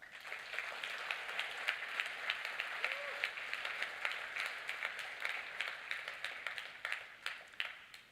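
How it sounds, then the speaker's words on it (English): Steady applause from a conference audience at a Linux summit, dense and even throughout, moderately distant with a hall-like wash and no break. "Can I get a round of applause for that?"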